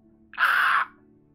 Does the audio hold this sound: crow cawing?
yes